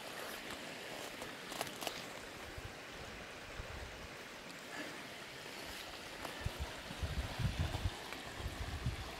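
A swollen, raging creek in Tallaganda rushes steadily with a broad, hissing roar heard from the bank, and a few soft thumps and splashes stand out near the end.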